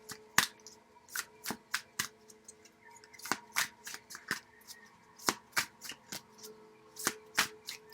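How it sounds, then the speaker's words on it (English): Chakra oracle cards are shuffled by hand in quick, sharp riffling bursts, close and fairly quiet, repeating irregularly with short pauses between. "let's see the chakra cards that want to come out here"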